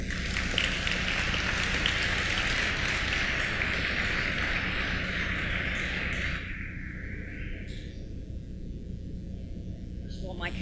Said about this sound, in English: Please welcome Marianne with your warm applause.